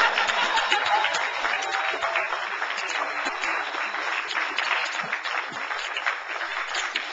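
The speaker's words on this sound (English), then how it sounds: "y'all give me a round of applause" A rally audience applauds steadily for several seconds, a dense wash of clapping heard from within the room, fairly even in level with some faint voices mixed in.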